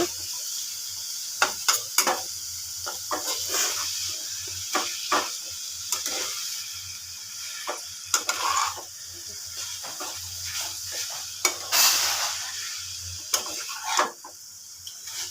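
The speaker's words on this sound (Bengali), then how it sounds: "ভালো করে নাড়ছি" Frying mixture for prawn curry with banana flower stirred in a pan: frequent scraping and clinking strokes of a spoon over a continuous close sizzle, uneven in rhythm with a few louder knocks, no talking.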